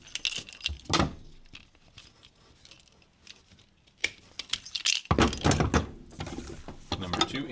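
Non-brass keys jangling and clinking as they are handled among scrap metal, with irregular close metallic rattles and a louder burst near the end.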